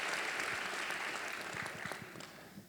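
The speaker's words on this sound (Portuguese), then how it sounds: "estas palmas já servem para a Rita" Audience applause fills a live talk event at Sesc Minas, dense steady clapping from a crowd that gradually thins and softens toward the end.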